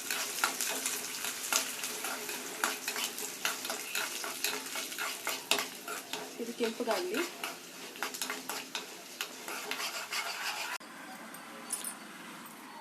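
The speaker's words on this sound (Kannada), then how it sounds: "ಹೆಸರುಬೇಳೆ ಇದಿಷ್ಟು ಹಾಕ್ಕೊಂಡು ಫ್ರೈ ಮಾಡ್ಕೊಳ್ಳಿ" Moong dal and a green chilli split in three frying in tempering oil for onion chutney, a steady close sizzle with clinks and scraping of stirring in the pan, and a brief spoken remark partway through.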